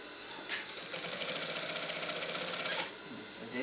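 A sewing machine slowly stitches a seam on a gamis (a long robe), a faint, steady mechanical whirr lasting about two seconds amid quiet room tone.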